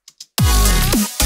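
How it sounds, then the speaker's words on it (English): A heavily processed crash cymbal sample with reverb, compression and delay: two short soft ticks, then a loud, bright, wide crash with booming low thump that rings out before another hit starts, with no one speaking. "standard crash samples here with a lot of processing."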